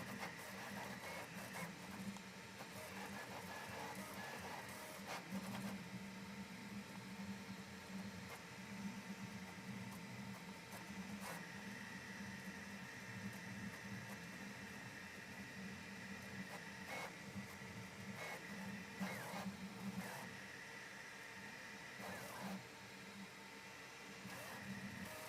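A Prusa Core One L 3D printer running, heard from a microphone clipped inside it: steady mechanical hum with whirring stepper-motor tones and periodic buzzy movements, close and continuous, no talking.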